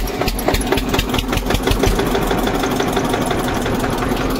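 Eicher 241 Xtrac tractor diesel engine starting and settling into a loud, rapid, knocking idle with steady rhythmic pulses, no talking.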